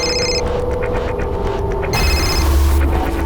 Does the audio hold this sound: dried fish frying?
no